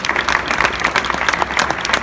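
A crowd of rugby club supporters at a team jersey launch claps steadily and densely, a sustained wash of applause with no break.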